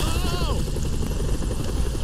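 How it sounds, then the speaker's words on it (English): Toy helicopters whir with a loud, continuous rotor chop in a Toy Story 3 video game level set in a house, a falling engine whine heard early over busy game noise. "All these tiny small helicopters are great, guys."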